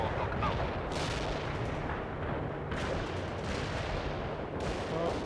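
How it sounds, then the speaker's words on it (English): Artillery strike explosions in World in Conflict, three heavy booming blasts spaced a couple of seconds apart over a constant roaring battlefield rumble, each burst followed by a rolling, crackling decay. "Artillery strike hit the mark."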